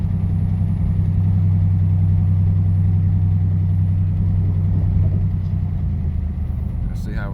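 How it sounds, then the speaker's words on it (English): A 1984 Oldsmobile with a 4.3L V6 diesel engine and a worn exhaust system needing a new pipe and muffler runs with a loud, steady low rumble. It holds a constant droning level throughout the clip. "The exhaust is a bit loud because I need to get a new exhaust system put on."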